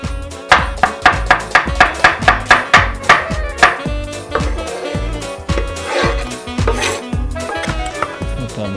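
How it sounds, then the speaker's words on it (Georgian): A knife chops onion on a cutting board while a Spanish fabada is prepared: a quick, even run of about a dozen crisp, close chops, then sparser cuts over soft background music. "ხახვი დაჭრილი გვაქვს"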